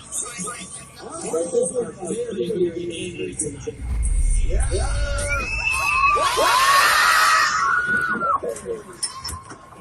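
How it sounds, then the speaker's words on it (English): A crowd at a bull event screams and shrieks as a bull charges into the stands, with loud overlapping high-pitched cries that swell in the middle and ease off, along with scattered shouting and commotion. "the audience starts screaming and presumably moves out of the bull's path"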